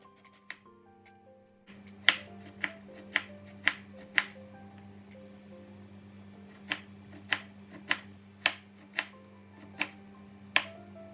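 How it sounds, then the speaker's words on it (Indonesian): A knife slicing peeled chayote squash on a board, a steady run of sharp, close cuts in two bursts separated by a short pause, with a faint hum underneath. "Setelah dikupas, lalu labu siamnya diiris-iris."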